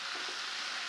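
Turkey berries sautéing in a pan, a steady close hiss of sizzling oil with no pauses.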